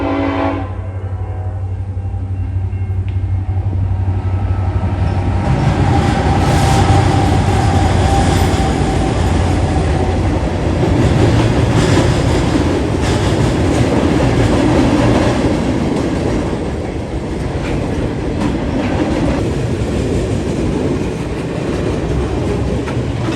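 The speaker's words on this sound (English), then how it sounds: "A short 171 flies westbound out of London and glides over Oak Run." A short Norfolk Southern train 171 runs westbound on the Dayton District over Oak Run, horn sounding at first, then a sustained rumble with rhythmic wheel clatter as the cars pass close by.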